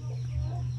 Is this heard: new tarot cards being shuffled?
no